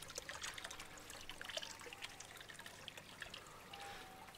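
Rainwater trickling into a pond overflow pipe through a 90-degree bend with mesh, outdoors in England: a faint, continuous dribbling and splashing with small irregular drips.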